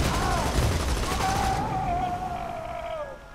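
Gunfire from a large scoped weapon in the video game Borderlands 2, a dense, loud rattling burst with a falling whine as the shots trail off, no talking.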